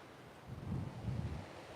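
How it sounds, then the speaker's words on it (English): Ocean breeze and surf at an oceanfront, a steady low rush of waves and wind swelling gently across the stretch, with no voices. "Feel that ocean breeze, everybody."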